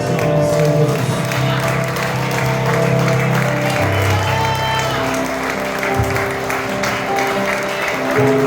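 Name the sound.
applause from a church congregation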